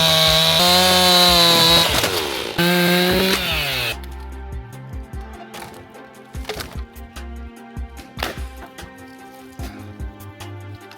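A chainsaw engine for cutting wood revs loudly and steadily for a few seconds, then cuts out. Scattered knocks and clunks follow.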